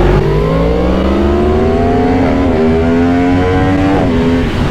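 A Yamaha MT10 motorcycle accelerates hard in first gear, a loud close engine whose pitch climbs steadily with two brief dips, roaring alone without talk.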